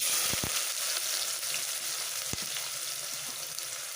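Finely chopped onions fry in a pan for beetroot curry, a loud steady sizzle close by, punctuated by a few sharp knocks of a spoon against the pan.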